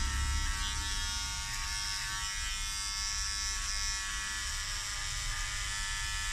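An electric hair clipper trims a beard to a 0.5 length, giving a steady close buzzing hum with a high whine that runs unbroken throughout.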